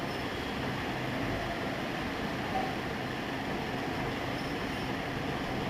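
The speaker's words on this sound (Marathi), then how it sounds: "ही मेट्रो आहे. अंडरग्राऊंड मेट्रो खूप सुंदर अशी आहे" An underground Mumbai metro train rumbles along inside the tunnel, a steady loud rolling roar of wheels and carriage noise with a faint squeal, continuous throughout with no talk.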